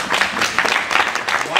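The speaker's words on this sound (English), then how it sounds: "Give a big round of applause." Lecture-hall audience in a clinical surgery lecture clapping, a fairly loud burst of many hands with an uneven rhythm lasting the whole stretch.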